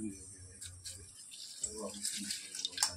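Sago pearls rinsed under running water in a mesh strainer, a steady close splashing hiss with a few brighter spurts, while a low voice murmurs faintly underneath.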